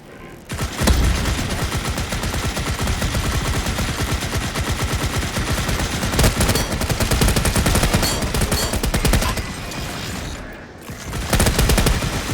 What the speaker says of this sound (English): the drillship is definitely taking fire